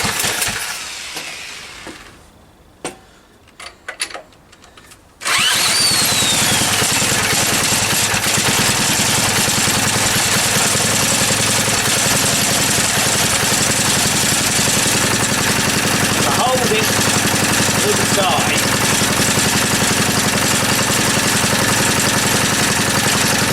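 A small engine clamped loosely on a bench starts after a few scattered knocks, then runs steadily and loudly for the rest of the time, with a continuous buzzing rattle against the bench.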